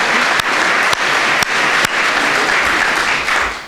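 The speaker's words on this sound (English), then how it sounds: "We can't applaud enough" Steady applause from an audience at a fire department press conference welcoming eight new firefighters, a dense wash of clapping with a few sharper claps standing out, fading slightly at the end.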